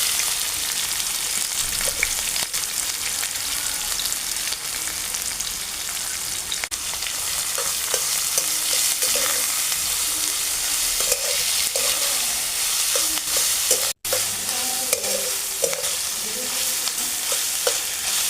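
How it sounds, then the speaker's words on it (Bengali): Sliced onions fry steadily in hot oil in a kadai, browning for biryani garnish, giving a continuous dense sizzle with faint scraping stirs, close and even throughout, no talking. "এবার কড়াইতে তেল দিয়ে বেরেস্তার জন্য যে পেঁয়াজটা কেটে রেখেছি, সেই পেঁয়াজটা একটু লাল লাল করে ভেজে তুলে নেব।"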